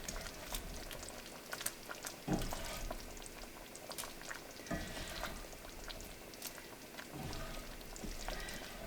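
Beef stew made from chuck roast simmering in a pot on low heat, a faint continuous bubbling with occasional small pops, close and quiet, with no talk.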